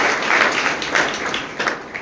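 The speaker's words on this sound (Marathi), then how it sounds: "त्याबद्दल आपण एकदा त्यांचं टाळ्या वाजवून मनापासून अभिनंदन करूया." An audience breaks into a dense burst of applause, many hands clapping together in a loud, continuous wash with no talking over it.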